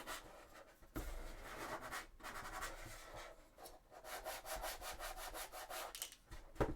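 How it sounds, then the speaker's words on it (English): Hand sanding of a cosplay prop piece for a Sisters of Battle Warhammer 40k costume, close and fairly quiet, with steady back-and-forth rubbing strokes broken by short pauses. "So let's do a little bit of sanding on this."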